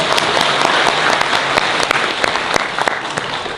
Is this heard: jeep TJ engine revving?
no